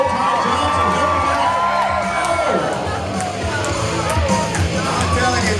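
Rodeo crowd at a bull ride in Bulverde, Texas, cheering, whooping and hollering in a loud, continuous roar of mixed voices, with excited shouts rising and falling over the babble.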